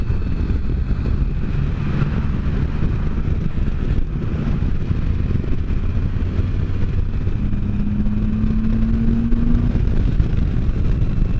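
The engine of a 2015 Can-Am Spyder motorcycle runs steadily after a front pulley recall, giving a loud, close, continuous rumble that holds an even level throughout.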